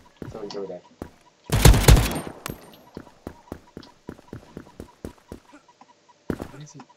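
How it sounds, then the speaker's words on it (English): Gunfire in an online shooter game aimed at the player from behind: a loud broadband burst of shots near the two-second mark, followed by scattered sharp cracks and a final burst, with quieter game noise between. "Somebody shot at me from behind."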